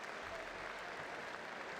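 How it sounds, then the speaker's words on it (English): Continuous home crowd applause in a football stadium during a Brighton & Hove Albion v Espanyol match, a dense wash of clapping heard at a distance, steady throughout. "Plenty of applause early on from the home faithful."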